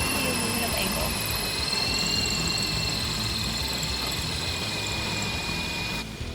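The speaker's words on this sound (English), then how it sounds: "we can now drill the holes for the motor mounts to the aluminum angle" A drill boring holes in aluminum angle for boat motor mounts gives a steady, loud, high-pitched whine with a grinding edge, running unbroken and close before cutting off near the end, with a voice talking over it.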